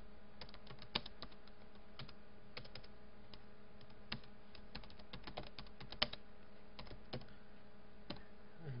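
Quiet keystrokes on a computer keyboard while C++ code is written, an uneven run of soft clicks with occasional sharper taps over a faint steady hum, and nobody speaking.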